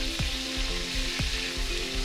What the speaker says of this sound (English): Next, on to frying the aubergines.